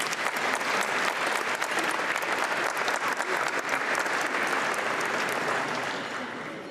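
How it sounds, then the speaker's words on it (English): Audience applause at a formal speakers' ball, a loud dense crowd of clapping hands sustained for several seconds before easing off slightly at the end. "Please join me in thanking them by a round of applause."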